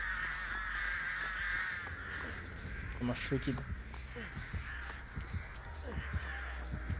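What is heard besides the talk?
crows cawing in video game Dead by Daylight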